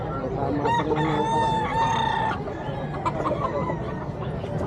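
A rooster crows one long, strained call up close at a pet market, with other fowl clucking and calling in the background afterward.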